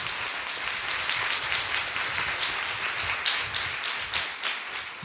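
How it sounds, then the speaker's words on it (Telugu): A church congregation claps together in praise of God, a dense, sustained patter of many hands filling the room, steady throughout without talk. "గట్టిగా చప్పట్లు కొడదాం ప్రియులారా దేవునికి"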